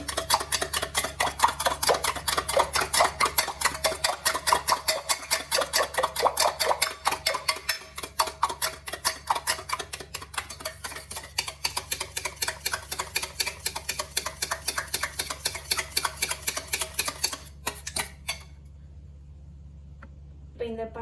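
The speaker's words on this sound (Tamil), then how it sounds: "இப்போ இந்த தயிரை சும்மா அப்படியே கரண்டி வச்சு மிக்ஸ் கொடுத்துருங்க கையிலேயே" Spoon stirring curd by hand in a bowl, a fast steady run of soft scraping clicks repeating for about seventeen seconds, close and fairly loud, then stopping into quiet.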